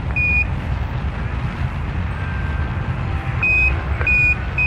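A repeating lander alarm from an Apollo 11 landing recreated in Kerbal Space Program 2: short, sharp beep tones that sound at the start and return as a pair near the end, over a steady low background hum.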